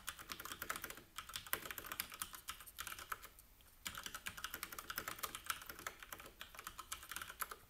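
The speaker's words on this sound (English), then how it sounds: "let me type it first and then explain it" Quick, steady keystrokes on a computer keyboard while coding, close and continuous with one brief pause, and no talking.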